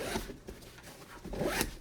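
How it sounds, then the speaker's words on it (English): A zipper on a sling bag is pulled open and shut in a few quick rasping strokes, close up and fairly quiet, with no one speaking. "2 zippers, which I do like. 2 zippers right here."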